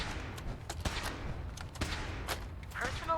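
Scattered gunshots in the post-apocalyptic Boston of the video game Fallout 4, several sharp cracks spread across the clip at mid distance over a low rumbling background, with a voice briefly present.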